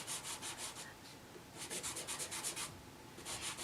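Mount Vision handmade soft pastel rubs across sanded paper in rhythmic bursts of gritty, scratchy strokes, close and quiet, with brief pauses between runs of short back-and-forth marks.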